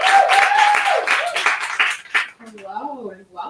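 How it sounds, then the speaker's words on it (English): Audience applause fills the opening two seconds at a women-focused cannabis event panel, with voices mixed in, then gives way to a single person speaking. "So give a round of applause to Tammy as we go ahead and start with this"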